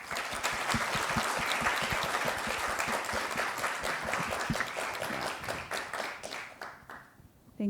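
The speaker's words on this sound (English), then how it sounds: "Maybe we can give them a round of applause" An audience applauds after an interview at an opening ceremony, a sustained crowd clapping that holds steady for several seconds and then thins out near the end.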